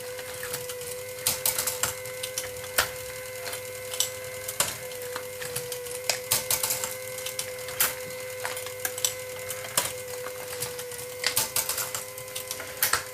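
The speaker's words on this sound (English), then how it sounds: "As the carousel turns, the jaws get released to clamp the box, like that." A box packaging machine's carousel turns while its jaws clamp and open cardboard boxes, making a steady run of sharp mechanical clacks and ticks over a constant hum, close and moderately loud with no talk.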